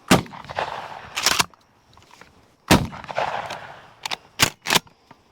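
Gunshots from a firearm at an outdoor shooting range, with several sharp, loud, close reports arriving in irregular pairs and clusters, each followed by a short echoing tail, no talk.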